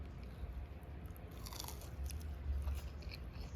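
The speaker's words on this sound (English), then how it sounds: "Oh wow, crunchy." Someone bites into crunchy food up close, a few crisp crunches and chewing sounds against a quiet background.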